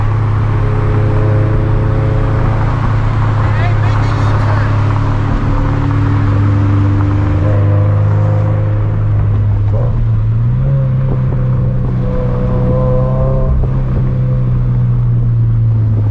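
A fully built twin-turbo Nissan 370Z Nismo making about 600 horsepower pulls briefly on a Chicago street, its loud, steady engine drone rising in pitch mid-run with a shifting, harmonic exhaust note throughout, no voices over it.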